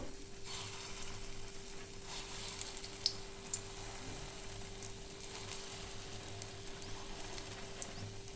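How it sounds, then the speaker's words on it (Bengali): Steady, soft sizzling of lentil dumplings frying in a pan of oil, a continuous crackle with occasional sharper pops, no voices. "আরও একটু ভেজে নেব।"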